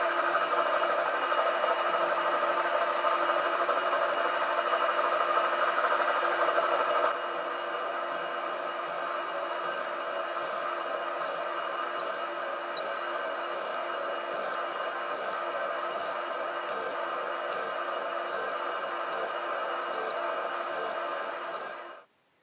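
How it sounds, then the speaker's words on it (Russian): A lathe fitted with a slotting head cuts a groove in a main-motor coupling, giving a steady whirring machine drone with faint rhythmic chatter that drops slightly partway through, then stops abruptly at the end. "теперь уже можно добавлять обороты и выполнять долбление"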